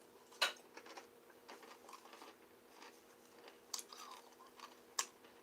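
Someone chewing cereal close to the mic, quiet moist munching with a few sharper crunches and bites scattered through.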